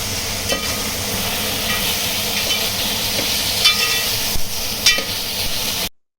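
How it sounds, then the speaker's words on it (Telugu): Bottle gourd sambar with green chili paste being stirred in a pot, a steady hiss of simmering with occasional scraping spoon strokes, loud and close, ending abruptly in silence. "మళ్ళీ బాగా కలుపుకోవాలి"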